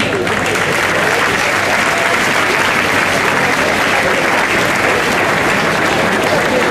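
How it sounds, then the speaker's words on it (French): Loud, dense applause from a crowd at a town festival, greeting the newly crowned Miss Bessan, a continuous roar of clapping that holds steady throughout. "notre nouvelle Miss Bessan, que vous pouvez applaudir"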